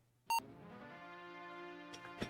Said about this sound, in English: this rip of the Majora's Mask soundtrack has beeps in it for some reason